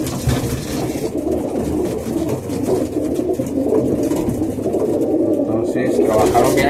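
Racing pigeons coo in a loft, with low, throaty murmuring calls rising and falling continuously and close by, overlapping a busy background.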